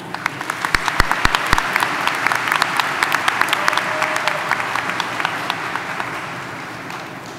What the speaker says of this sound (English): Please give our special guest a round of applause.